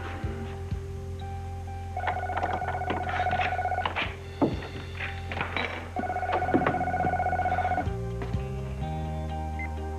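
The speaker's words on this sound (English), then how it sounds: "I think that's our phone." A telephone rings with repeated electronic trill bursts in two clear rounds, each followed by a pause, over low background hum and music in a soap-opera household scene. No one talks.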